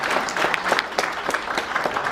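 An audience applauds at the close of a lecture on inter-Korean relations, with brisk, even clapping from a moderately sized crowd filling the room for a couple of seconds.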